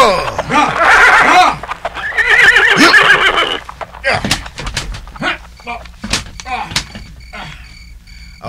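Horses neigh and whinny loudly in a rural setting, several strained, rising calls in the first few seconds, followed by thumps, clip-clop and people talking over scattered knocks.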